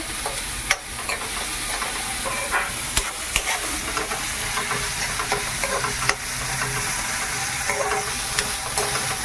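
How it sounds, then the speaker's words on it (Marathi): Onions fry in a pan for pav bhaji with a loud, steady sizzle, while frequent spatula scrapes and knocks on the pan break in at irregular intervals. No one talks. "कांदा मस्त असा लाल होईपर्यंत परतून घेऊया"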